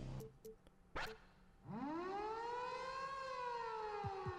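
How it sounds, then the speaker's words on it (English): A rising and falling civil defense style siren wails as a foul sound effect in NBA 2K19, swelling steadily after a few short knocks and lasting several seconds, loud and clear without speech. "And for the foul, we'll do a siren for that one."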